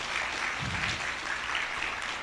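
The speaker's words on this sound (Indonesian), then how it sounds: "Kasih tepuk tangan, luar biasa." Steady applause from an audience at a talk, a dense continuous patter of clapping throughout with a brief low rumble partway through.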